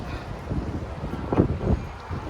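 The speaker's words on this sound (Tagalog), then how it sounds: "Lakas ang hangin." Strong, cold wind along the north and Victoria Harbour waterfront buffets the microphone in rough, rumbling gusts, swelling louder toward the end, with no talking.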